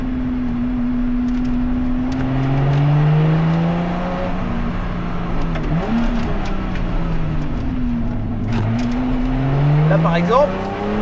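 A Lotus Exige V6 350 driven hard on a track, its engine rising and falling through gear changes with slight understeer. Someone speaks over the engine noise throughout.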